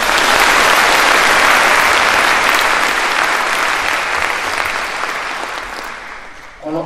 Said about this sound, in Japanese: このいただきました拍手をもってアンコールとしてよろしいでしょうか。